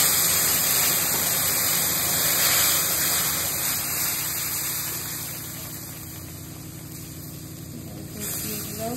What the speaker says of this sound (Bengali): দুধ দিয়ে দিলাম,